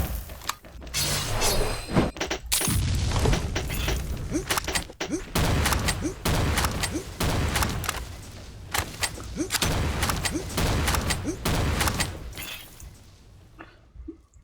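Grenade blasts and gunfire in the shooter game XSHOT: dense, continuous bursts of shots, cracks and booms, loud throughout, with a voice talking over the action.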